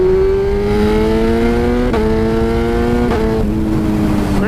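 A BMW 1000RR sports motorbike accelerates hard, its loud, steady engine note climbing in pitch and then dropping sharply at two quick-shifter gear changes.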